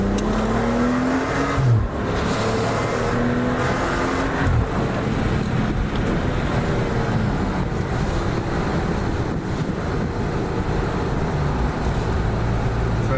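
BMW F25 X3 35i fitted with a Remus axle-back sport exhaust, heard with the window down: a steady, loud engine drone held at high revs, with a few small rises and dips in pitch and no talking.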